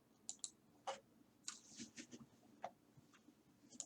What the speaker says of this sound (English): you should click on the Reports tab in Salesforce